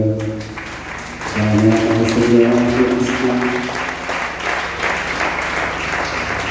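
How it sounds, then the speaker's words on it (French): A church congregation at a Sunday service applauding and cheering, a broad steady wash of clapping that swells and holds, with voices and a sung tone rising over it early on. "Est-ce qu'on va acclamer le Seigneur?"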